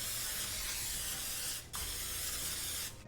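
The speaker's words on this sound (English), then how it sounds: "I'm going to spray it with some cooking spray" Cooking spray hisses from a can onto an electric griddle in two close bursts, the first long and steady, a short pause, then a second spray starting near the end, fairly quiet and alone.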